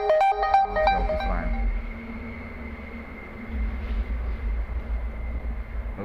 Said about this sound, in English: my phone just ringing